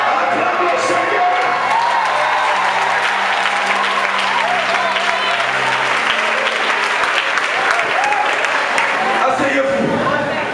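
A church congregation applauds and cheers continuously for the Lord, loud and dense, with whoops and voices mixed into the sustained clapping throughout.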